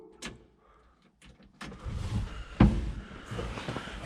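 A 1973 Ford F100, silent for 13 years, cranks over after some clicks and clunks and catches into a rough, uneven running rumble that swells loudly at one sharp burst.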